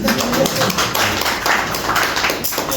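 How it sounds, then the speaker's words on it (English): An audience clapping at a council meeting for Greendale Ward 9 in Harare, with steady applause mixed with voices. "So I think we should just clap hands for ourselves."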